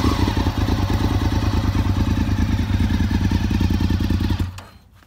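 A 2002 Honda RC51 motorcycle engine running cold on fast idle with the choke pulled, a loud steady close-up throb with a rapid even pulse that cuts off and drops away near the end.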